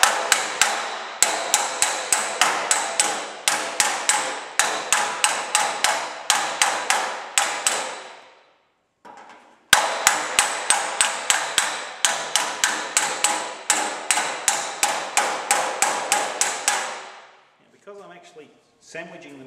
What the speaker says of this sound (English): Sandwiching the metal and pinching it between the hammer and dolly as it comes together, each time I put a hammer blow in place